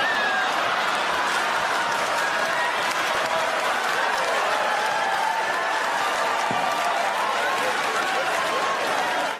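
A large comedy-club audience applauds and cheers after a Dave Chappelle stand-up joke, dense steady clapping filling the room for the whole stretch, with scattered whoops and laughter mixed in before it cuts off abruptly.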